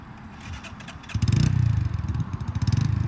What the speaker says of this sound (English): The bike just died. The engine cut out.